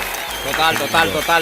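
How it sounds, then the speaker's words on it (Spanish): A studio audience on a Venezuelan sports talk show applauds, a broad wash of clapping that swells in short surges with voices and cheers mixed over it. "Vamos, un aplauso"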